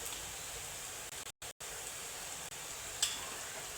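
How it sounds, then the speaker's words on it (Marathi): Onions frying in hot oil for a fish curry, with turmeric being stirred in, give a soft, steady sizzle. The hiss is quiet and continuous, broken by a couple of brief dropouts, with a light scrape near the end. "कांदा आपला थोडासा फ्राय झाला, त्यात हळद टाकते"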